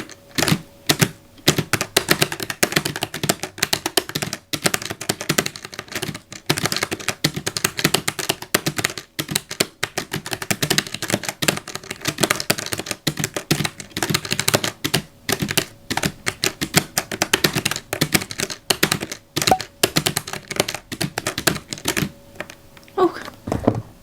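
Fast, continuous clacking of keys on a white Logitech G915 TKL tactile keyboard during Tetris play, dense irregular bursts of crisp taps close up, steady for over twenty seconds without talk.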